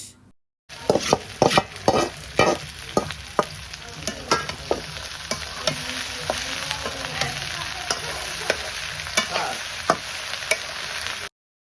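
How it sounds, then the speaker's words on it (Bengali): Chopped okra hits a pan of frying onion and green chili, raising a bright continuous sizzle punctuated by repeated clicks and scrapes of a stirring spoon, close and moderately loud. "এই পর্যায়ে দিয়ে দিচ্ছি কেটে রাখা ঢেঁড়স।"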